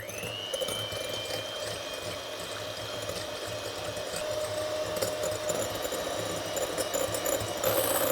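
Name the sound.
electric mixer whipping egg whites with salt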